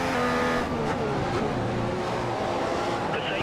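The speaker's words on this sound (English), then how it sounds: "we crank that engine into rich mode here as we need to make up every 10th of a second as we possibly can here on the straight" A Formula 1 car engine in F1 2015 holds a loud, steady high-revving drone along the straight, near and continuous, with a voice talking over it.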